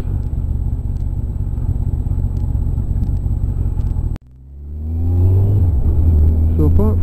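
Car shifting down into first gear on a trip to Dunfermline: a steady rumbling drive cuts off abruptly, then the engine revs and pulls away, its rising whine climbing close and loud.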